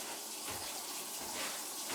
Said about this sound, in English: So put the tub on hot, flush all the air out when the water starts coming out good.